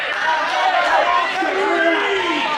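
A ringside crowd at a live wrestling event chatters and cheers, a dense, lively wall of voices with loud shouts rising out of it.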